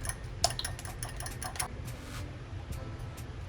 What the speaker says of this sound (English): So I'm just gonna whisk it. Till it's become nice and fluffy.